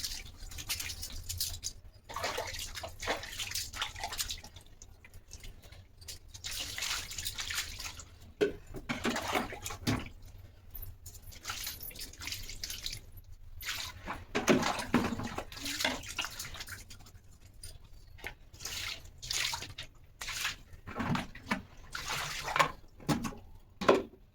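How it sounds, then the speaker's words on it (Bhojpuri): Dishes being washed under running water in a rural home, with a steady stream splashing and clattering irregularly throughout, moderately close and without talk. "तो बर्तन धोवा गए, देखिए इतना सारा बर्तन धो ले बने।"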